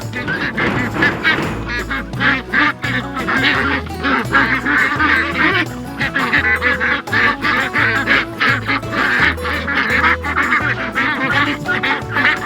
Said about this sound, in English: Bunch of quacks in there.